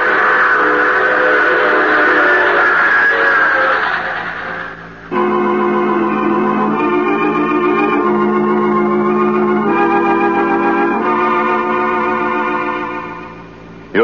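Train sound effect from the old radio drama The Mysterious Traveler: loud, sustained chords of a steam whistle blow in long blasts over a running train, with no voices.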